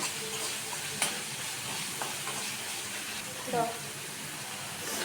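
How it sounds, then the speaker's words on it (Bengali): Spiced filling for Mughlai paratha, seasoned with salt and Kashmiri chilli powder, is stir-fried slowly in a pan. A faint, steady sizzle runs throughout, broken by a few light clinks and scrapes. "আস্তে আস্তে এটাকে কষাতে হবে"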